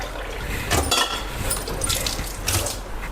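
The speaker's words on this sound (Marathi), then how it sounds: "आपल्याला 4 वाटी एवढं पाणी टाकून घ्यायचं" Water pours steadily from a bowl into a pressure cooker, a continuous splashing, gurgling fill with small surges, close and fairly loud in a home kitchen.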